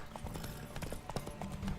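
Horse hooves clip-clop in the video game The Witcher 3: Wild Hunt during a race, a quick steady rhythm of hoofbeats over game background noise.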